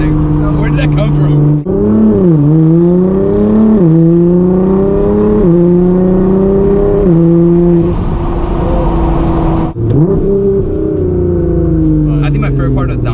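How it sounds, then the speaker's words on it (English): A Liberty Walk Nissan GTR, an 800hp street-driven build, revs loud and close with repeated sharp downshifts that make the engine note jump and then climb again through the gears. "the GTR downshifts are insane."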